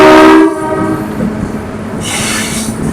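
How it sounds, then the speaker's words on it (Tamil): A MEMU passenger train's horn blasts loudly for half a second at a station on the Villupuram to Tiruvannamalai route, then the sound rings on in echo over the rumble of the carriages. "நல்ல எக்கோ அடிக்குது கைஸ் நம்ம ட்ரெயினோட ஹாங்கிங்கு."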